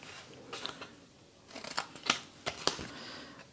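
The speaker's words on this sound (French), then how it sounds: "Et donc ici, je coupe à nouveau ces 2 bouts." Scissors snip through the card ends of a handmade compartment box, several short, crisp cuts spaced out over a quiet room, each one close and dry.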